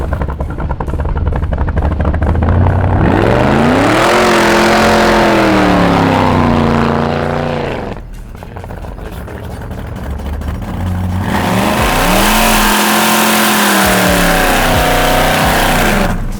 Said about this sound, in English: there's not a lot of smoke, but there's a hell of a lot of tire spin, and you can smell the rubber